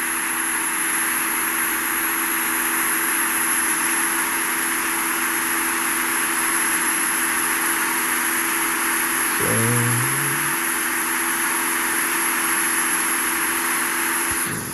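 Airliner engines in the Infinite Flight simulator game hold a constant loud broadband roar with a steady hum, and a brief short tonal blip near the middle; no talk.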